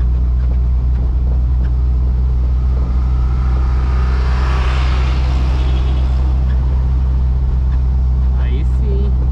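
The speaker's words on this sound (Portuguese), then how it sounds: "quando o escapamento tá furado, a gente perde o embalo" Volkswagen Kombi with a holed exhaust labouring uphill, giving a steady loud engine rumble and drone throughout, with faint talk over it.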